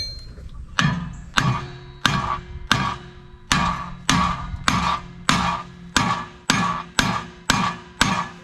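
About a dozen evenly spaced hammer taps ring out on brake caliper parts, each a sharp metallic strike with a short ringing decay, close and clear with no talking.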